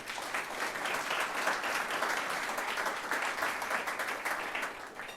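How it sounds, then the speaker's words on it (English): An audience applauds steadily, a dense wash of many hands clapping at an even level for several seconds. "Please let's give them all a round of applause."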